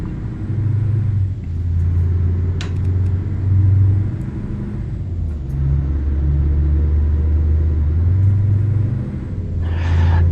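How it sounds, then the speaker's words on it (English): A truck engine rumbles in a truck simulator game, heard from the cab with a fan and AC running. The low drone swells and eases in long waves as the revs change, with no talking. "I guess all you can hear now is truck sound noises"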